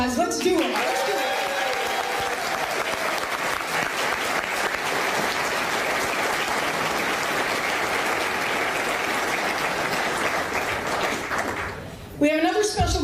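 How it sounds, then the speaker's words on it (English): A crowd at a hockey team name announcement gives a long, loud round of applause that holds steady for about twelve seconds, then fades as a voice briefly speaks at the end. "let's say thank you, Mr. John Bolton, with a ruckus round of applause"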